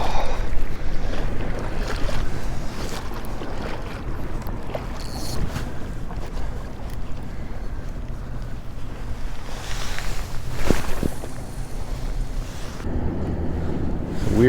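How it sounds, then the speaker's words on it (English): Wind buffeting a microphone on a boat on a tidal river backwater, a steady loud rushing roar with water lapping against the hull, continuous and close with no voices. "We're on the windy side of this river."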